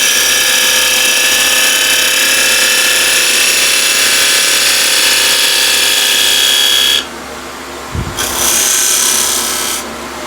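A spindle gouge cuts a small piece of highly abrasive elm spinning on a lathe at 2000 RPM, giving a loud, steady scraping hiss over the machine's hum, then a sudden drop, a brief thump and a short resumed cut.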